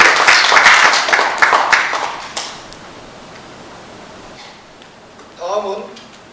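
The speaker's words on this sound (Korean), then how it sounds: "오늘 오신 황교 의장께 큰 박수 부탁드립니다" At a Korean formal gathering, an audience bursts into loud applause for a visiting chairman, then the clapping tapers off within a few seconds into quiet before a voice speaks briefly.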